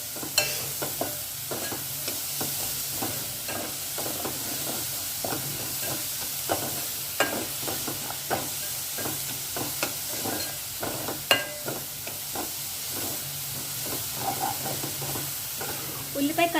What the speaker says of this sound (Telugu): కొంచెం పసుపు బాగా వేయించుకున్నాం